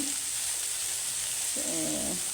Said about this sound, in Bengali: এই যে এখানে কই মাছ ভাজতে দিচ্ছি